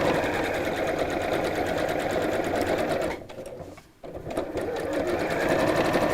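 A sewing machine top-stitches fabric in a fast, steady mechanical whir, briefly slowing and pausing before running on again, loud and close.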